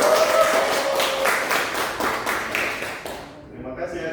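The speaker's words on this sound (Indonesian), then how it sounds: "Mungkin bisa dikasih tepuk tangan untuk kelompok 1." A classroom group claps for a team presentation, with clustered rhythmic hand claps that overlap a short spoken phrase at the start and fade out toward the end.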